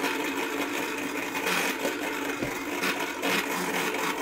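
A string-pulled spinning physics toy whirs and hums steadily up close, a continuous buzzing drone with slight rhythmic wobbles as it spins on an angle, with no talking.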